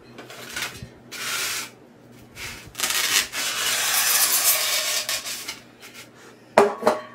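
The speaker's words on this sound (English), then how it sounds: "I start by scoring out my piece and then I'll just cut it out with a simple knife." A simple knife scores and cuts through a block of styrofoam for a floral centerpiece, giving close bursts of squeaky, scratchy rubbing strokes, one long sustained cut, and a sharp snap near the end.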